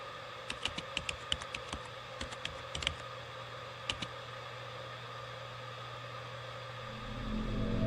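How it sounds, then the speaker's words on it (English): Random keys tapped on a computer keyboard in quick irregular clusters, close and fairly quiet over a steady fan-like hiss, then the typing stops and a low rumble swells near the end. "I'm just literally just typing on the keyboard."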